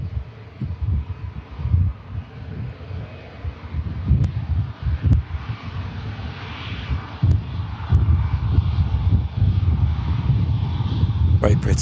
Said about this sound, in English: Very pretty Air France, Airbus A320.